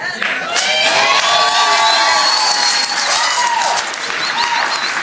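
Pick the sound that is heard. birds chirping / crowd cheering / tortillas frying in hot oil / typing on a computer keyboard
crowd cheering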